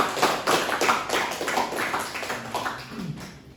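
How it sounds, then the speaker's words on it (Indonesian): A small group at a school guidance session claps for themselves, a short burst of uneven hand claps that tapers off over a few seconds, fairly close and without talk. "kita tepuk tangan buat diri kita sendiri"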